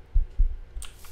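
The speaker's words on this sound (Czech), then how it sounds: "slyším tlukot srdce" Heartbeat in a Minecraft horror map with an Enderman chasing through a forest: two deep, muffled thumps close together, then a softer third beat, with nothing else going on.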